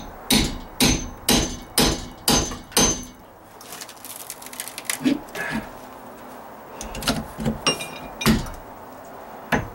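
Hammer blows driving nails with a fiberglass-handled hammer during dry-rot deck repair, a steady run of sharp, loud strikes at first, then scattered lighter taps and clinks alone.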